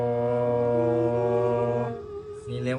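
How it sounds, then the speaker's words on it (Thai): A saw u, the Thai two-string fiddle, bowed on its inner Do string with the bow drawn toward the player, gives a steady, rich sustained tone that shifts and wavers near the end of the stroke. "เมื่อเราเอา คันชักนะครับ สีกดเข้าหาตัวเองโด"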